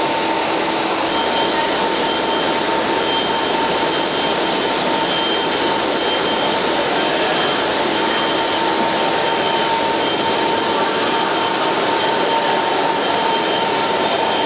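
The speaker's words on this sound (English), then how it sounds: "This is our two-layer lamination machine. It is used to heat and vacuum glass, EVA, cells, and the backsheet together." A two-layer solar panel lamination machine runs in a factory, heating and vacuum-pressing glass, EVA, cells and backsheet; a loud, constant whooshing hum with a steady tonal whine, unbroken for the whole stretch, no voices.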